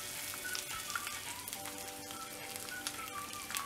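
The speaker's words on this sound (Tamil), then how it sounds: "உளுத்தம் பருப்பு கடலை பருப்புலாம் நல்ல செவக்குற வரைக்கும் இந்த எண்ணெயில ஃப்ரை பண்ணிட்டு இருக்கணும்" Urad dal, chana dal, curry leaves and coconut fry in oil, giving a soft, continuous crackling sizzle with faint pops, fairly quiet and without any voices.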